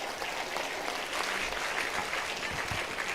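An audience at a university event in Pune claps together in a brief, dense burst of applause that stays fairly even throughout.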